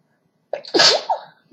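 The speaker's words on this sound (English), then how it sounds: "hold on, I have to sneeze" A single close, loud human sneeze: a short sharp intake, then an explosive burst, followed by a faint breath afterward.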